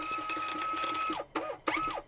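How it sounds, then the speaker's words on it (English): A Bixolon label printer prints a network report: a steady mechanical whir with a high tone for about a second, then two short bursts of feeding, close and alone. "Your network report will print out,"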